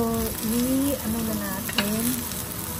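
Vegetables stir-fry in a hot pan with a steady, close frying sizzle, while a wavering tonal sound runs underneath.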